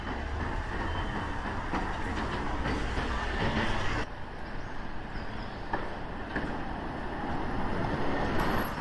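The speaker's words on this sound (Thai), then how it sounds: "ตอนนี้ก็มาลงรถไฟใต้ดินที่สถานีเซนต์ปอนะครับ" London Underground train at St Paul's station, a steady rumbling roar of rolling wheels and rail noise, loud and close throughout with occasional clicks and a brief shift in pitch midway.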